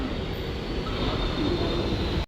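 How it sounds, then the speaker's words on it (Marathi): A metro train in Mumbai arrives at a station platform, a loud steady rumble and rolling noise close by that cuts off abruptly at the end. "जस्ट आता मेट्रो आलेली आहे."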